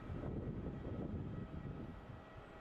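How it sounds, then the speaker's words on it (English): A Boeing 737-800 airliner slows down on runway 16 at Melbourne Airport, its engines a faint, distant, low rumble that eases off slightly toward the end. "737-800 slowing down there on runway 16"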